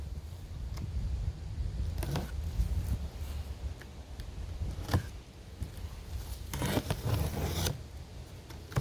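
Cardboard box of a Simpson pressure washer being ripped open, with irregular tearing, scraping and crinkling bursts close by and louder rips in the later part, no talking.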